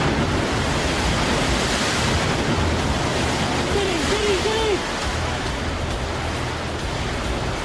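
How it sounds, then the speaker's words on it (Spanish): Tsunami wave surging over land in Thailand, engulfing houses and hotels: a dense, loud, continuous roar of rushing water, steady throughout with a brief faint tonal sound partway through. "Una muralla de agua engulle las casas y los hoteles."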